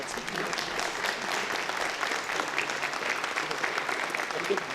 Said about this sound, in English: Let's round of applause for our Finance Committee.